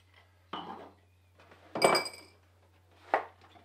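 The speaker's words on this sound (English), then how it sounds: "A few chunks of ice to keep it nice" Chunks of ice drop into a glass of chocolate milkshake being made in a home kitchen, giving three separate clinks and knocks spaced apart, fairly close and clear with no talking.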